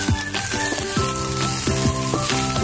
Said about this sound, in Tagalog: nagisa ako ng bawang and sibuyas